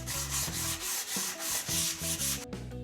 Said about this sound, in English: And sanding to avoid those nasty splinters where you don't want them.